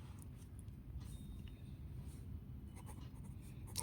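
Pen writing out a maths solution on paper, soft continuous scratchy strokes with small taps, close and quiet over a low background hum, with no talking.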